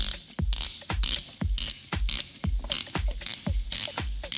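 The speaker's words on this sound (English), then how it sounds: "please listen to the sound of that rotating bezel" A Rado Captain Cook Automatic Bronze dive watch's ceramic unidirectional bezel is turned counterclockwise, giving crisp, close mechanical ratcheting clicks in repeated quick bursts with brief pauses between turns.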